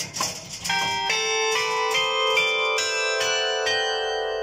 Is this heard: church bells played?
yes